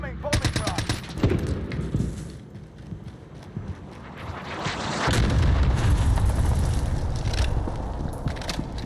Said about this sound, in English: Incoming bombing run.